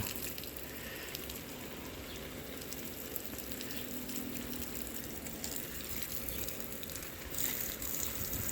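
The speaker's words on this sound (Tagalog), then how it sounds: "Pa-shower tayo, pasawa natin sila para" Water showers steadily over potted bonsai trees in a home garden, a continuous hissing spray that holds at an even level throughout with no voices.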